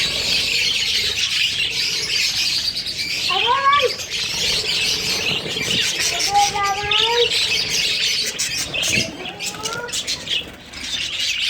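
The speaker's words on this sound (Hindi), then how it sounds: "मेरे तोते ही तोते" Australian parrots in a colony on a hot day give a few squawking, rising calls over a constant hissing outdoor background, with a voice talking faintly underneath.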